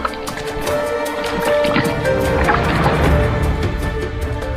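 Camels gulp a ration of water at a desert border post, giving continuous close gurgling and sloshing with faint splashes throughout.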